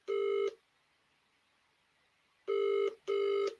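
A phone rings out while calling a friend, the ring tone sounding in separate bursts, one then a long pause and two more in quick succession, clear and fairly loud with no talk over it.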